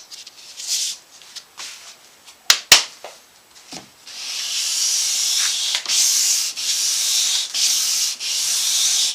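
A guitar head plate being hand-sanded with 320 grit sandpaper, starting with scattered rubs and a couple of sharp knocks, then settling into continuous loud, close back-and-forth sanding strokes in a steady rhythm.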